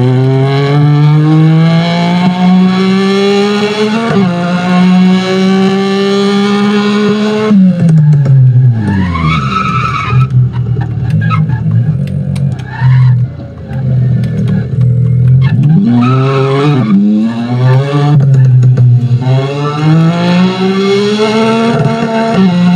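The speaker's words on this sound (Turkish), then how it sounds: "şu egzoz sesi var ya" A Peugeot with a Varex exhaust in the racing game Assetto Corsa revs and accelerates loudly through repeated gear shifts, its engine note climbing and dropping with crackling overrun between pulls.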